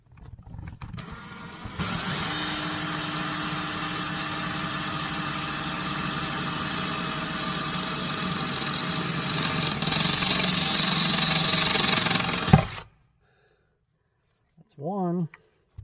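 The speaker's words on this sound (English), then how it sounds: "Drill these out." Sustained loud power drill whine grinding steadily for about ten seconds while drilling holes in vintage air conditioning interior parts, rising in intensity before stopping abruptly, followed by a brief voice.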